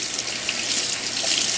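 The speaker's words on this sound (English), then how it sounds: "I almost feel wasteful now sitting here washing gloves with my water." Water from a faucet runs steadily and loudly while gloves are washed by hand, a continuous close-up splashing rush with no talking.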